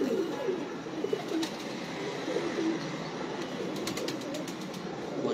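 Several fancy pigeons kept for flying give repeated low cooing calls close by, soft rolling phrases recurring through steady ambient noise, with faint wing sounds and no speech.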